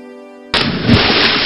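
A sudden loud grenade blast in a video game erupts after a moment of quiet tone, followed by a rumbling, crackling explosion that fills the rest of the clip.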